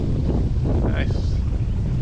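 Wind gusting across a microphone aboard a sailboat crossing from Dominica to Guadeloupe, a steady close buffeting roar with low rumble that holds for the whole moment.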